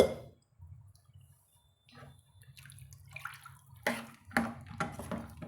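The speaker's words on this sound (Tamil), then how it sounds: "இப்போ நம்ம தேவையான அளவு வந்து தண்ணி வந்து நம்ம சேர்த்துக்கலாங்க" Water is poured into a pot of sundaivattral kuzhambu, a splashing pour with clinks of a vessel that grows in bursts toward the end after a quiet start.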